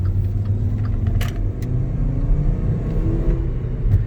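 A 2010 Volkswagen Jetta engine accelerates from inside the car, a low steady rumble building gradually with faint rattles and no speech.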